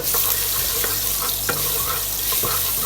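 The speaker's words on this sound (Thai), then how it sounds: "กระเทียมลงไปเจียวนะครับ" Garlic frying in hot oil for crispy fried pork belly, a steady loud hiss and sizzle with a few soft clinks of stirring, alone without talk.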